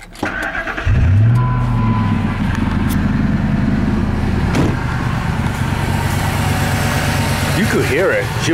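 A 2002 Ford F150 engine starts and settles into a rough idle with uneven pops, running steadily and close by while someone talks over it.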